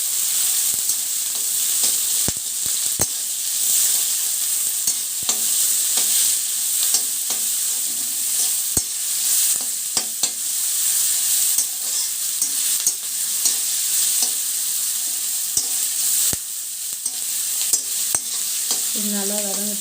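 Chillies and garlic sauté in hot oil for veg noodles, giving a bright, steady sizzle with scattered crackles and occasional spatula taps against the pan.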